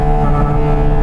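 A Porsche GT4 RS engine held at its 9,000 RPM limiter gives a loud, steady, tonal drone lasting the whole short moment without any talking.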